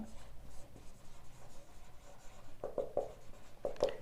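Chalk or marker writing on a board during a maths lesson, a series of faint taps and short scratchy strokes clustered toward the end, quiet room tone underneath.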